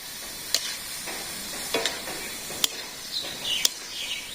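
Vegetables with ash gourd frying in a pan in a village kitchen, a steady close sizzle with occasional sharp stirring clinks and faint bird chirps in the background.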